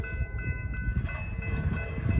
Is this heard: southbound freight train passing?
yes